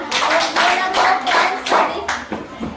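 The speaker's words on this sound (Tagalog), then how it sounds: "Palakpak." A class of children claps together in a classroom during a lesson demonstration, a loud, uneven run of hand claps coming in several quick bursts, with faint voices underneath.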